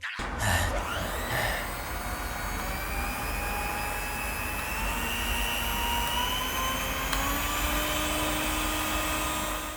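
Philips electric hand mixer running steadily, a continuous whirring motor hum with a whining tone that climbs slightly in pitch as the speed rises, close and alone after a brief click.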